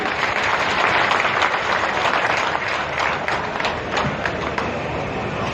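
A crowd applauds at an outdoor event where the Delhi Chief Minister flags off a DTC bus. The clapping is loud and continuous for over five seconds, with a few sharper individual claps standing out near the end.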